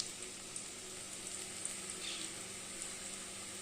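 Mustard seeds crackling in hot oil in a pan while cooking kuska biryani, a steady dense sizzle with faint scattered pops, fairly quiet and continuous with no talking.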